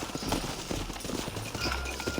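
Horse hooves clip-clopping in Red Dead Redemption, a quick, close rhythmic trot of several horses over a low rumbling game backdrop.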